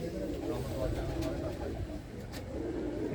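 Low, continuous cooing from a female pigeon kept in a village loft in Punjab, heard close under someone talking.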